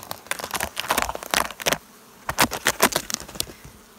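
Honeybees in an opened, strong hive during a seasonal inspection, with irregular close buzzing bursts of varying loudness and brief crinkly handling noises between them, no talk.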